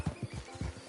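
Horse hooves clip-clopping in Red Dead Redemption 2, a quick, soft, rhythmic series of close muffled thuds over a steady faint background.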